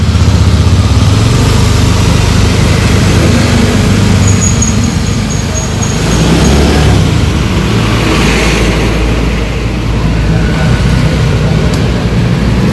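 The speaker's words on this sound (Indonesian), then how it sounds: "Oke nih, udah nyala motornya." A 2016 Honda Beat scooter-style motorcycle idles nearby, a steady loud low engine rumble running evenly throughout with no revving.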